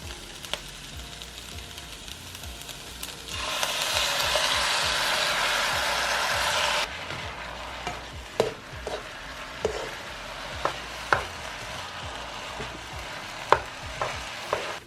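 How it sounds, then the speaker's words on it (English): Shrimp fried rice with sesame oil sizzles steadily in a hot pan, a loud frying hiss surging for a few seconds, then quieter crackling with sharp clicks of a utensil stirring against the pan. "now I'm going to add in our sesame oil"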